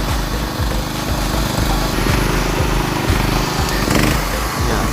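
A used 6.5 kW generator engine running steadily after being switched on, a loud, close, even chugging hum that holds without pause, with no talk.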